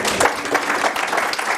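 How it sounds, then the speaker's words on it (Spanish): An audience at a morning session of a conference day claps to welcome presenters. The short burst of applause is dense and loud, blending into a continuous wash. "Los recibimos con un aplauso."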